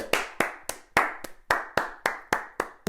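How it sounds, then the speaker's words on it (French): Hands clap close by, about ten sharp claps in an even, steady rhythm, with no voices. "donc on peut s'applaudir"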